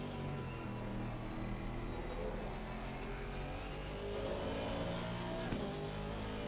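Race cars, a Porsche and Aston Martins, lapping in wet conditions in a racing video game, their engines a steady, continuous drone at moderate level with no break.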